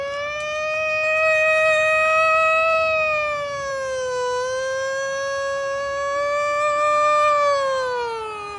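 A man from Sasaram imitates an ambulance siren with his voice, holding a steady, loud, rising and falling wail for several seconds with no other talk.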